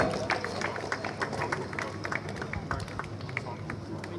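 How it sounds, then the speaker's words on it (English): An audience at the closing ceremony of a university men's basketball tournament applauds the winning teams, a dense, steady patter of many hands with crowd murmur mixed in, held at a moderate level. "a huge applause for every winning team present here"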